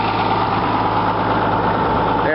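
Case 2290 tractor with a roughly 200-horsepower engine running after a cold start, giving a loud, steady, low-pitched diesel rumble with no pauses throughout.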